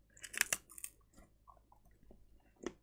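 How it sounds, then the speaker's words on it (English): Crunchy bites of a MrBeast Feastables chocolate bar being chewed up close, with a few sharp crackling crunches early on, then softer scattered chewing clicks and one last crisp bite near the end, with no talking. "you can hear the crunchy snap."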